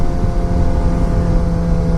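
A 2016 Suzuki GSX-R600 supersport motorcycle roars steadily while being ridden, a loud continuous engine drone mixed with rushing wind, no talking.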